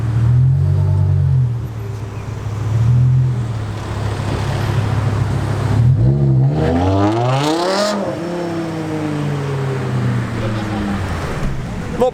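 Koenigsegg Agera R supercar, 1140 bhp, revving at a low-key UK car meet: engine harmonics sweep sharply up and back down around the middle, over steady traffic rumble and crowd chatter, with people talking throughout.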